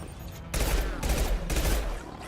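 Gunfire in the video game Mass Effect 2 arrives as loud, dense bursts of rapid shots, two sustained volleys separated by a brief pause.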